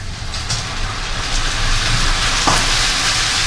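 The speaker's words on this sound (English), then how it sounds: "you want to boil fairly vigorously because you want to boil off the alcohol and just leave the aromas" A cup of Merlot boils vigorously in a ragù alla bolognese pot, a steady close bubbling hiss that grows slightly louder, with no voices.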